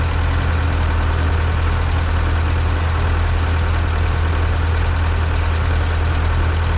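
A Zetor 7045 tractor engine runs steadily after a cold start in Sweden, a loud, close, continuous diesel drone with a deep low hum and an even knocking texture.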